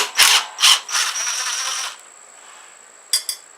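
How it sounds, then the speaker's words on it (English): A screw being backed out of the igniter mounting bracket on a John Deere GT262 riding mower: two loud close bursts of driver whirring, a short sustained run, then a quieter pause and two quick final bursts. "we're going to pop the screw out of the mounting"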